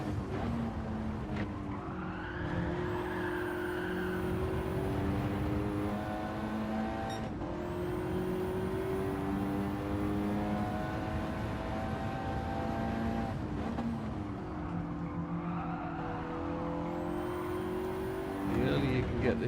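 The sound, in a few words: race car engine accelerating out of a corner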